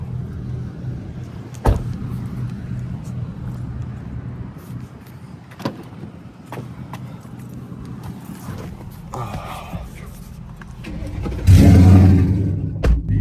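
Inside a 2024 Ford Mustang GT with an obnoxiously loud exhaust, a few door and cabin clicks and thumps come first. Near the end the engine fires up in a sudden loud, deep, rumbling roar.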